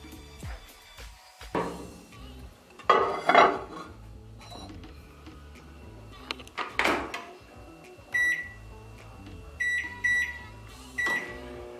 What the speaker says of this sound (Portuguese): bora lá levar no micro-ondas por 1 minuto.